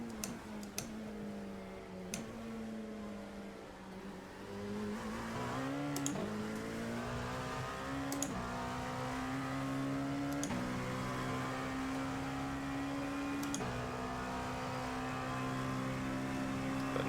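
An LMP2 prototype race car circles the track at Canadian Tire Motorsport Park, its engine a loud, continuous drone whose pitch dips and then climbs steadily, with brief sharp ticks along the way.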